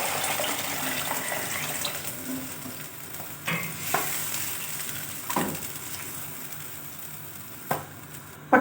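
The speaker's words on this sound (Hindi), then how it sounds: "1 लीटर के करीब पानी डाल दूँगी।" About a litre of water is poured into a pot of pakora curry, giving a rushing, splashing pour at the start, then softer stirring and occasional utensil clanks against the pot.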